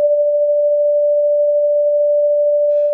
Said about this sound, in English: what you hear there is on the left side is the amplitude modulation